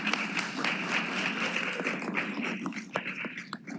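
Applause fills a Memphis City Council committee meeting as the room honors the city's fire department: a dense, steady clatter of many hands clapping throughout, thinning slightly toward the end.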